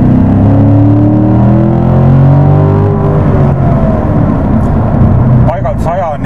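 A Chevrolet Corvette Stingray accelerating hard, its engine note rising and sweeping upward in pitch through a loud, steady drone, with a few brief higher chirps near the end.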